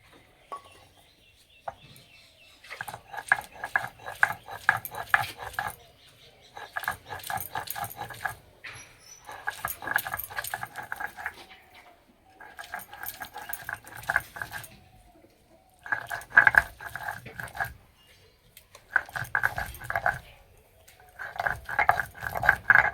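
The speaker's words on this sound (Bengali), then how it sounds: "এবার আমি পটলের বীজ আর চিংড়ি মাছ বেটে নেব" Pointed gourd seeds and shrimp are ground together into a paste. The grinding comes in repeated bursts of a few seconds each, with short quiet gaps between them, fairly loud and close.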